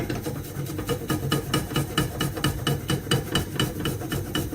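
Butternut squash or leek is grated for a tart in a kitchen, making a steady rhythmic scraping, one close stroke after another for several seconds, with no talk.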